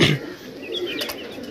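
Madras pigeons cooing and shuffling in a loft, a couple of soft, short calls at moderate distance with no talk.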